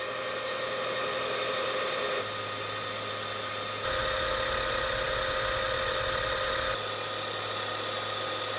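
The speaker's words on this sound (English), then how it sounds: "While the mill's working away here" A milling machine runs steadily while cutting parts for a bicycle thru axle adapter, giving a continuous close mechanical hum with tonal shifts as the cut changes.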